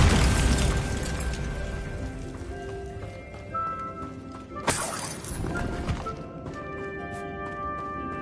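A Bombarda spell bursting in Hogwarts Legacy, a loud crashing explosion followed by shattering debris and a sharp secondary blast mid-way, with scattered clattering fragments and tonal game sounds ringing out.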